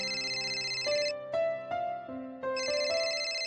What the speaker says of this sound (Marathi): फोन वाजते पा.